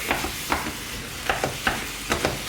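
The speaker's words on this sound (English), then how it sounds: "You want to flip it, let it cook, flip it, let it cook." Ground chicken frying in a pan while being chopped and flipped, with a steady sizzle under repeated sharp spatula taps and scrapes at a quick, uneven rhythm.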